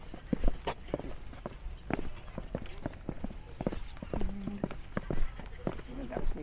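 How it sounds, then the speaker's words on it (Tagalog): Hooves clip-clop in an uneven string of soft, close steps at a horse riding area in Tagaytay, with people talking and a steady high whine in the background. "Tapos may kabayo. Ayun silang horse riding dito."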